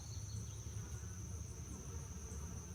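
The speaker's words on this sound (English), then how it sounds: "just a bunch of clustering bees." Honeybees clustering on a hive frame during an inspection for queen cells give a steady, faint, continuous buzzing drone throughout, with no talking.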